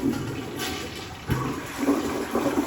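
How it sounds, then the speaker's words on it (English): A toilet flushes during a home inspection, a watery rush with gurgles rising and falling over a couple of seconds, heard close and alone. "I'm going to flush it."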